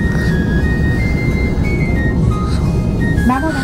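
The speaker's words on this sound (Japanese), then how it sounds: "列車を発車していきます。" A train in Tokyo pulls away after an emergency stop, with a steady low rumble throughout, a sustained tonal chime-like line above it, and a rising whine near the end.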